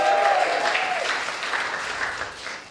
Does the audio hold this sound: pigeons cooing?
no